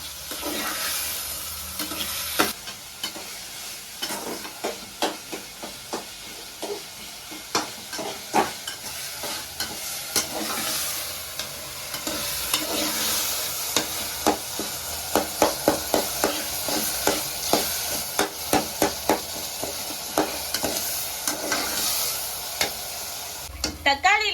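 Tomatoes with salt frying in a pan for chicken gravy, a continuous close sizzle broken by frequent rhythmic scrapes and taps of a spoon stirring, fairly loud throughout.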